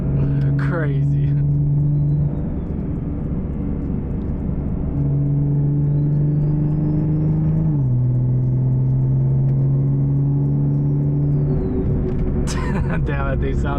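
A car fitted with a T51R turbo running loud inside the cabin, a deep steady drone holding its pitch with small shifts, a brief spooling whine and a voice speaking near the end.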